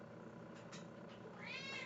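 A pet house cat meowing once near the end, a faint rising meow under quiet room noise, preceded by soft indistinct rustles.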